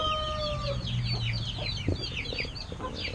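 Brahma chickens cluck and chatter together in a steady, busy flock. A rooster-like call rises briefly near the start, with no voices over the birds.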